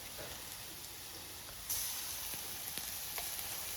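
Ginger garlic paste hits browned onions in a hot pan, giving a soft, steady sizzle with a brighter crackling hiss rising partway through, faint and close.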